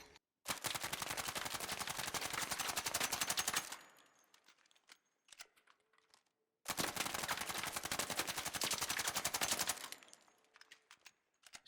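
The Stitcher weapon in ARC Raiders fires with a silencer in two long rapid bursts of suppressed automatic shots, each lasting several seconds, followed by quieter mechanical clicks and rattles between them.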